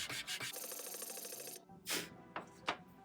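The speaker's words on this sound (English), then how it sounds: "Needs a little more sanding yet." Rapid back-and-forth sandpaper rubbing on a painted engine valve cover for over a second, followed by a few separate scraping strokes, close and fairly quiet.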